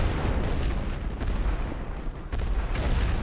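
An artillery barrage in the video game The Great War: Western Front, with a dense, continuous rumble of booms and distant explosions rolling together without pause.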